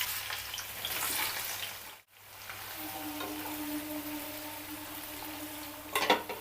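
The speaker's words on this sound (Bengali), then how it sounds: "এবার আমি পেঁয়াজটা দিয়ে দিচ্ছি।" Onion hitting hot oil already fried with whole spices such as cinnamon in a pan for Golbari-style mutton kosha, a steady loud sizzle that briefly drops out, then resumes with clinks near the end.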